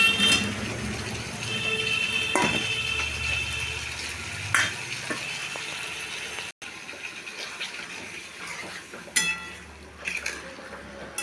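Steady frying sizzle of duck eggs in masala in a pan, with a few clinks and stirring knocks; the sizzle dips briefly, then carries on.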